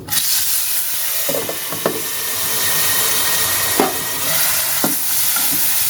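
Potatoes seasoned with turmeric and salt fry in hot oil, giving a steady close sizzle with occasional stirring scrapes and clinks.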